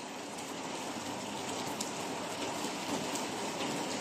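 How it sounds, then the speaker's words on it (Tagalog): Steady rain falls on surfaces on an afternoon at a waterfront hotel in Davao City, a dense continuous patter with no voices heard. "Sa maulan na hapon."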